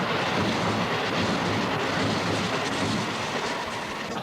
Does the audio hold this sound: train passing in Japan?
yes